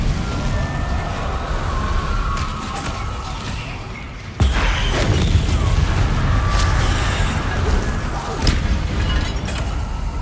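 Spells cast in the video game Hogwarts Legacy: a dense magical whoosh and burst lands about four seconds in, followed by a sustained crackling rumble with further pops and swishes, loud and close, no talk.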